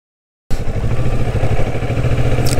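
Kawasaki Vulcan S motorcycle doing an emergency brake to a point at about 25 km/h, its engine running steadily and close after a brief silence, with a low rumbling note throughout.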